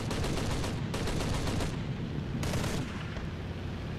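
Cannon fire from a Zero fighter in War Thunder, rapid thudding bursts packed into a dense, rumbling stream that thins out after a few seconds, heard at moderate loudness against engine noise.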